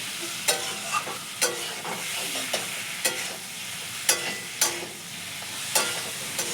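Coriander leaves fry in a hot pan with a steady soft sizzle, broken by sharp scraping knocks from stirring about once a second. No one speaks.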